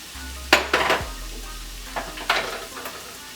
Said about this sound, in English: So my ground beef is in there. I'm throwing in my carrots.